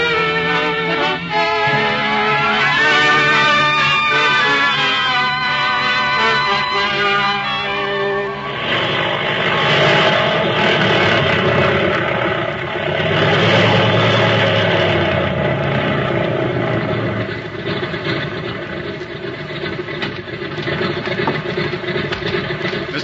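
An airplane engine drones steadily as a sound effect in an old-time radio drama, a loud continuous mid-pitched hum that shifts in character partway through and holds without a break, with no talking over it.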